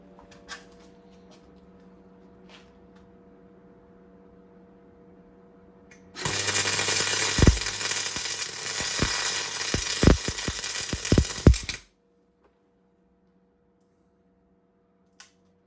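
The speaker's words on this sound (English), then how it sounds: "I'm just going to weld it the same as I would with a bit of stainless wire" MIG welding aluminium with stainless wire on a Mk1 Fiesta, power set far too high: a loud, steady crackling buzz lasting about six seconds with sharp pops through it, then stopping abruptly into quiet.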